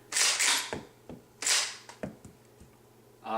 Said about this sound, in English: So first pump, put the first one in.